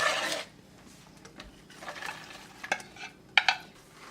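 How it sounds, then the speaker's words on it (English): Cabbage hitting hot oil in a pan for a Jamaican-style stir fry with carrots and broccoli, a soft sizzle under scraping stirs and a few sharp clinks of a utensil against the pan. "We're going to be adding our cabbage."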